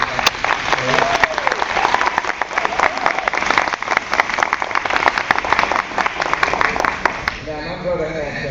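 A crowd at a Barbara Jordan High School reunion gives loud, sustained applause for Ann, dense clapping mixed with chatter that tapers off near the end.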